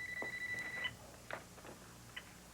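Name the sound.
telephone ringing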